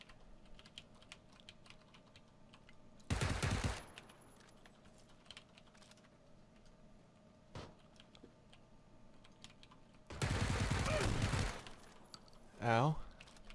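Shotgun blasts in a first-person shooter video game, two long loud bursts of firing with quieter clicks and taps between them, followed by a short voiced yelp.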